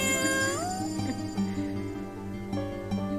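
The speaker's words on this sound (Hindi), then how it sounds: "देख रही हो ललित, अब मैं बिल्लियों को बिना डरे हाथ लगा सकता हूँ।" A cat meows once in a rising then falling cry, heard clearly over a steady background of sustained music tones, with no talking.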